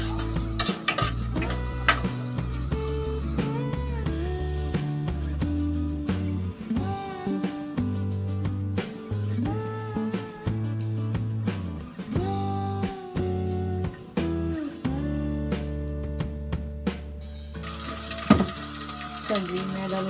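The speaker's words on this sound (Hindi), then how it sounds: "तो मैंने प्याज डाल दिए, चॉप प्याज डाले मैंने। धीरे धीरे बस इसे पकाना शुरू करते हैं।" Chopped onions fry in a pan with a steady background sizzle while a utensil scrapes and clatters against the metal in frequent irregular strokes, close and fairly loud, with occasional tonal ringing and no speech.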